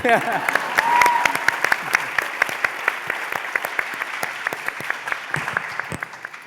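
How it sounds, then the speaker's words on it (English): A crowd at an award ceremony claps steadily for several seconds, sharp hand claps forming a continuous patter that slowly thins out, with a voice briefly heard at the start. "we can clap, yeah, clap"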